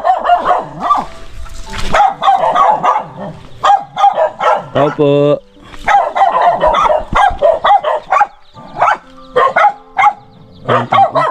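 Dogs bark in short bursts around a closed, empty house, close by and fairly loud, mixed with people talking and calling out at the door.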